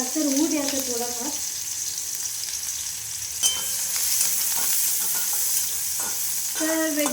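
Onion frying in oil with mustard seeds gives a loud, constant sizzle, with a short stretch of speech at the start and brief stirring scrapes throughout.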